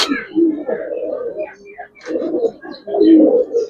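Giribaz pigeons cooing close by in a loft, with several rounds of low rolling coos separated by brief pauses.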